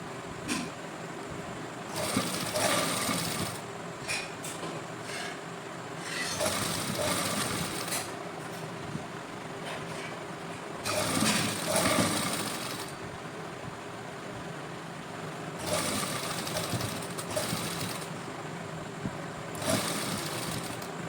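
Sewing machine running in bursts as it stitches lace onto a lined shirt (kameez), with repeated stretches of steady mechanical whirring separated by short pauses.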